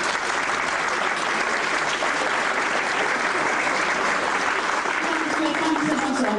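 Sustained, loud applause fills the room at a formal annual dinner as the president is welcomed, with a dense and even wash of clapping from the guests and faint voices underneath.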